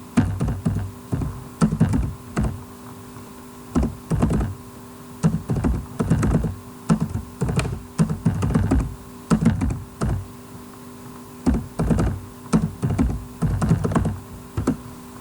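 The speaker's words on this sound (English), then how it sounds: "So for that, we need to type this command." A command is typed on a computer keyboard: close, crisp key clicks come in quick uneven bursts with short pauses between them, and no voices are heard.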